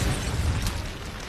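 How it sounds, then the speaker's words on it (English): A rigged bag blows up inside a trash can in a movie scene, a loud dense boom that fills the whole short clip with rumbling, noisy roar. "The explosion knocked Mason off his feet."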